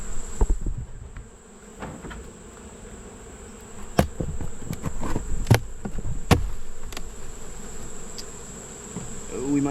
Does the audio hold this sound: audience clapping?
no